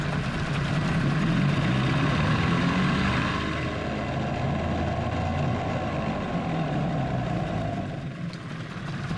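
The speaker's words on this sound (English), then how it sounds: "Let's try put it in gear again, see what happens." An old boat engine that had not run for two years idles with a loud, continuous low rumble and drone, close by, with a slight change in tone as it is shifted into forward gear.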